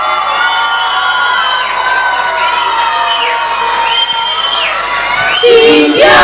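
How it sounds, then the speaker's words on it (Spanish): Audience at a youth murga performance cheering, whooping and shouting in a loud, sustained crowd roar that swells toward the end. "a recibir con un fuertísimo aplauso"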